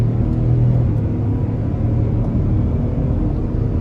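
A 2021 Ford F-150 XL Regular Cab with a 5.0 V8 pulls under heavy throttle, a loud, steady low rumble that holds close and continuous throughout.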